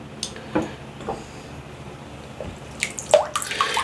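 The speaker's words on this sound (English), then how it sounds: "So let me mash this around in here and throw a little water at it." Water is splashed onto Tabak body wash being lathered, giving scattered wet splashes and soft squelching dabs, sparse at first and busier toward the end, close and fairly quiet.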